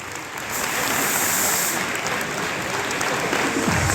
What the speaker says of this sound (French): c'est là que tout le monde applaudit